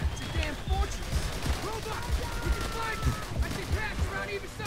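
Gunfire in the World War II shooter Call of Duty: World at War, with repeated sharp shots and bursts popping across a busy battle mix, while a voice talks over the action.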